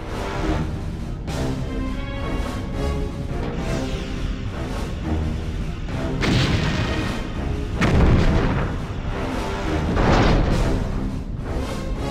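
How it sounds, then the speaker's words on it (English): A Romulan Warbird blowing apart in the Star Trek Bridge Commander space combat game, a dense continuous roar of booming blasts and crackling bursts with heavier swells near the end, no voices. "Simulated enemy Romulan Warbird has been destroyed."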